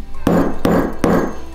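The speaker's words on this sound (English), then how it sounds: "take this pedestal right here and take your hammer and just slightly hammer that on that side" Three sharp hammer strikes on a metal propeller-jig lure part resting on a pedestal, evenly spaced about 0.4 seconds apart, close and loud with a brief ringing decay after each blow.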